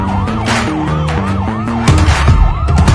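An ambulance siren wails loudly nearby in traffic, its rising and falling tone repeating rapidly over a deep rumble of engines that grows heavier toward the end.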